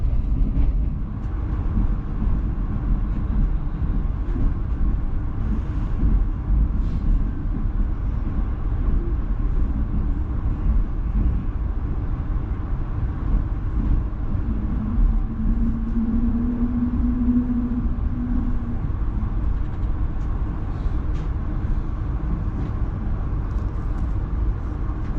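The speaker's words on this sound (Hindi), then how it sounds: "3:48 पे 6 टाउन ग्रीन लाइन अप्रोच बना रही है चकलाला रेलवे स्टेशन पे" A Green Line passenger train runs on steady approach to Chaklala railway station, a constant low rumble and rolling rail noise heard from inside the carriage, with a faint brief whine midway.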